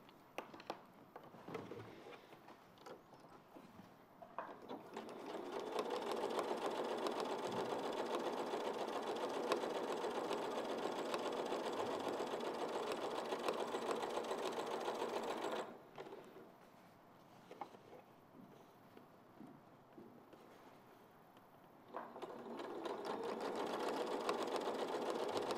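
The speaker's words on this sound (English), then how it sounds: "Sewing 1/4 of an inch either side." Sewing machine stitching quilt squares with a quarter-inch seam, a close, steady whirring run that pauses briefly midway, then resumes with short bursts and a final sustained run, with no voices.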